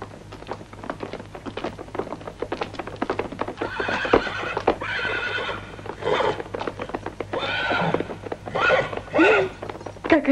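A horse neighs several times in loud, shrill whinnies, with hooves clip-clopping nearby between and under the calls.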